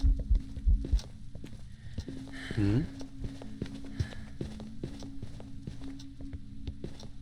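Ghost footsteps during a hunt in a video game sound as repeated dull thuds at a steady, fairly quick pace over a low hum, with a short warbling tone in the middle and heavier knocks at the start.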